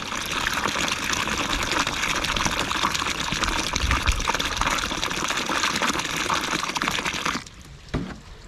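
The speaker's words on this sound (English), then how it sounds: "the last step here is to simply add some water to the bottom of your container." Water gushes steadily into the bottom of a water-wicking garden container, a loud continuous splashing pour that stops abruptly near the end, leaving a few faint drips.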